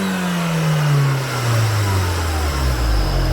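Close-up of a built BMW X6M with a twin-turbo engine, its pitch sweeping steadily downward as the revs drop, loud and near, with a faint high turbo whine sitting above the engine note.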